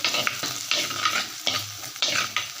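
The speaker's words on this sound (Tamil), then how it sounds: "தட்டுன பூண்டை இதில் போட்டுக்கலாம் இப்போ இதையும் நல்லா எண்ணெயில் வதக்கி விட்டுருங்க" Crushed garlic and onion sautéing in oil, close up, with rhythmic spoon strokes scraping the pan roughly every half second over a lively sizzle.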